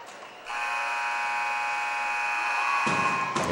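A loud, harsh electronic buzzer sounds for nearly three seconds at the end of a boys' high school basketball game, steady and droning over faint arena noise.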